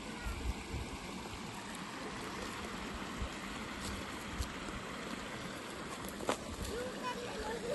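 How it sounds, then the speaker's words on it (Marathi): Steady rushing and trickling of a river's flowing water in Konkan, India fills the clip, a broad continuous wash with a few small splashes, no voices. "नदीवर आज मस्त पाणी भरलंय. छान अशी नदी"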